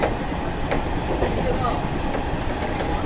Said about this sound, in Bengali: আমাদের এই লোকাল ট্রেনটা ছুটছে